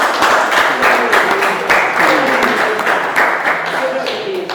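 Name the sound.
audience applause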